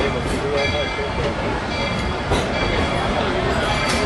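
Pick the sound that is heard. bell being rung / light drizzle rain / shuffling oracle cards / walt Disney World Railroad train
walt Disney World Railroad train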